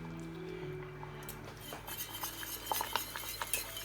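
Butter is whisked into a Périgueux truffle sauce in a pan: a whisk stirs and clinks lightly against the metal, quiet and close, growing into a run of sharper taps toward the end.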